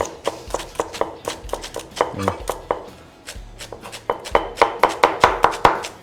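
A knife finely chopping Thai salad ingredients on a board, rapid crisp regular strikes in quick bursts with a brief pause midway, close and clear, no talk.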